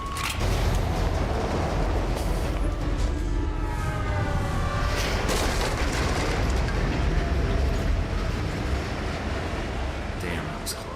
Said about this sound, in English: Think you can dodge a train?